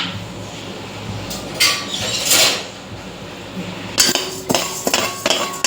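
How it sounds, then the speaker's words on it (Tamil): Dry moong dal roasting in a hot kadai, stirred with a metal spatula: soft brushy scrapes give way to a run of sharp, close clinks and clanks against the pan near the end, with no voices. "இது சூடாக அடித்து லேசாக வாசனை வர அளவுக்கு வறுத்துக்கலாம்."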